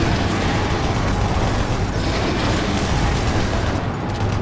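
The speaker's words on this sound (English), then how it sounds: "Why is there so many goddamn explosions in here?" Explosions roar through a reactor core in Doom 3 as a continuous loud, dense rumble, with blasts blending into one another in a constant heavy wall of noise and no clear gaps.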